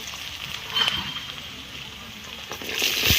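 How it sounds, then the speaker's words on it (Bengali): Potato pieces fry in oil in a wok with a soft, continuous hiss and a few faint scrapes and taps, and no one speaking. "এখানে আমি আলুগুলো ভেজে নেব"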